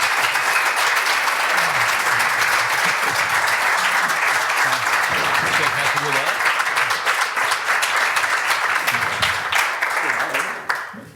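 Loud, continuous applause from a startup pitch event audience in Copenhagen fills the room for about ten seconds, then cuts off abruptly near the end.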